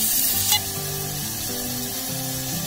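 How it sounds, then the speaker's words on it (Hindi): Garlic ginger paste sizzling with onions in a hot pan, a steady loud frying hiss close by, with a brief stirring scrape near the start. "लहसुन अदरक का पेस्ट डालते हैं।"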